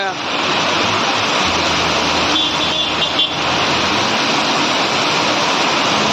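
Heavy rain pours steadily in Gariyadhar, a dense, loud, unbroken wash of noise lasting throughout, with faint passing sounds in the middle.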